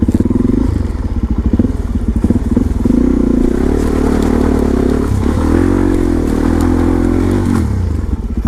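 A supermoto motorcycle climbs a flight of stairs, its engine revving loudly and close, with uneven throttle bursts mixed with clattering bumps and thuds.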